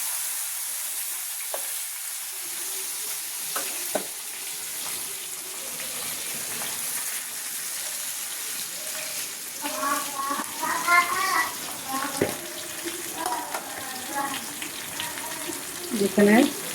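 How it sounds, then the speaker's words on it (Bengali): Hilsa fish paturi wrapped in leaves frying gently in a pan on low heat, a soft continuous sizzle under someone talking, with occasional clinks. "যেহেতু এটা ভাজা হবে তো আস্তে আস্তে আমার করতে হবে।"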